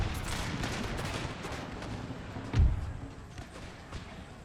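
Musket volleys in a battle in Empire Total War, a dense rumble of distant gunfire rolling throughout with one heavier thump standing out partway through.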